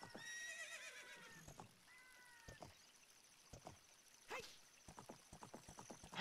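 Epona, the legendary steed in Zelda: Ocarina of Time, whinnies several times with rising and falling calls, fairly faint, with light clip-clopping hooves scattered through.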